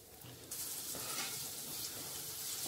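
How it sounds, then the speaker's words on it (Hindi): Raisins fry in hot fat in a pan, a soft, steady sizzling hiss that swells after a quiet start and stays fairly faint throughout. "और अब डालेंगे किशमिश और इसे भी फ्राई कर लेंगे।"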